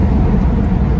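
Inside a 1960 Lincoln Continental Mark V on the road, a loud, steady low engine and road rumble fills the cabin without a break, and no one speaks.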